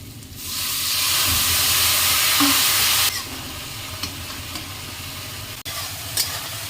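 Spice paste with salt, turmeric and water hits a hot pan and gives a loud sustained sizzle for a few seconds, then settles into a quieter bubbling fry with light stirring.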